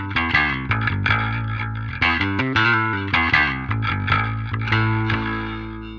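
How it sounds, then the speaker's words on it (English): Distorted electric guitar runs through a Parallax X cab sim with a Condenser 184 mic, playing a tight riff of chugging low notes and bright accented chords that sustain and fade at the end. "So that was the Condenser 184."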